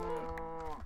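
A cow moos once in the TerraFirmaCraft modpack for Minecraft, a steady, drawn-out low call that fills the whole moment alone and up close.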